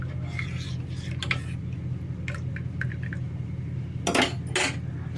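A spoon stirs homemade baby food in a pot on the stove, giving soft scraping and clinking against the metal with a few sharper knocks near the end, over a steady low background hum.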